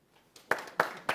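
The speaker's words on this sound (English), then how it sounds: "Ooh, round of applause." Three sharp hand claps spaced out, fairly close, at a gala evening speech, starting a round of applause.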